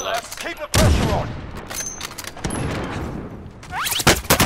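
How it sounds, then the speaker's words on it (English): Gunfire in Call of Duty Warzone, a loud close shot with a long reverberant tail followed by scattered further shots and thuds, with brief talk and game sounds in the mix. "They're shooting at me!"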